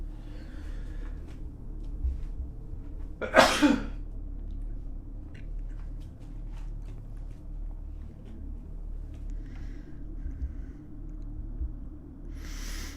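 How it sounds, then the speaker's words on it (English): A single sharp sneeze bursts out near the close mic, standing out briefly above a steady low background hum, then quiet returns. "I gotta sneeze."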